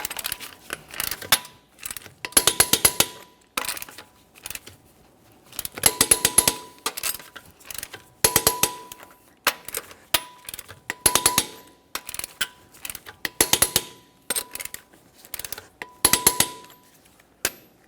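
Torque wrench tightening the front wheel lug nuts on a 2017-2024 GMC Acadia in a crisscross pattern, heard as repeated sharp metallic clicks and clinks in short bursts spaced a second or two apart, fairly close and without talk.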